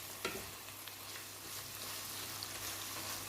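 Chickpeas and tomatoes frying quietly in a pan while being stirred, a soft, steady sizzle with a few light scrapes and taps, faint and without speech.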